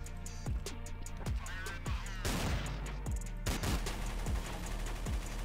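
Gunfire from Counter-Strike: Source: sharp, loud shots in an irregular rhythm, single cracks mixed with short bursts of rapid fire, heard up close.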